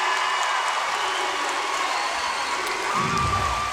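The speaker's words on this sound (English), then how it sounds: "Crowd's going nuts." Crowd noise at a gymnastics meet after a fantastic routine, a steady roar of cheering and applause filling the arena continuously, swelling slightly near the end.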